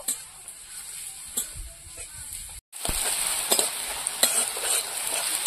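Onions sizzling in hot oil in a pan while cooking fish roe curry, a steady frying hiss with a few sharp clinks and scrapes of stirring, close up, with a brief gap midway.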